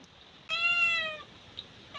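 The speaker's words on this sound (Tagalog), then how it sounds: "pusa namin lakas kumain ng kanito" A cat lets out one clear, close meow partway through while eating kamias fruit, with quiet room ambience around it and no talking.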